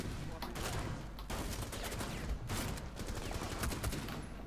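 Rapid gunfire from Rainbow Six Siege fills the whole stretch, dense bursts of shots crackling loudly and continuously with brief gaps, a voice occasionally audible underneath.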